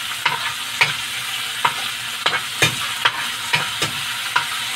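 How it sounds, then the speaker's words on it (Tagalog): Pork with onions and other ingredients stirred in a sizzling pan, a steady fry hiss punctuated by regular scraping and clacking strokes of a spatula, close and without talking. "Mix din natin yung pork natin"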